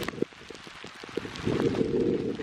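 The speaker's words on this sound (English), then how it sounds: "Here's the rain again." Rain patters and hisses steadily while wild camping in wind on Cadair Idris in Snowdonia, with scattered close drops, then a denser, louder wash in the second half.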